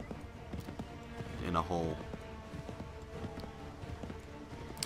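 Horse hoofbeats in the Assassin's Creed 3 video game clop along in an uneven rhythm, moderately close, with a person talking over them and a brief vocal swell midway.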